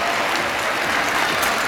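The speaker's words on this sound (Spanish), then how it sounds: "Aplausos." An audience at a live dog show performance applauds in a dense, steady wash of clapping that stays even and fills the whole brief moment.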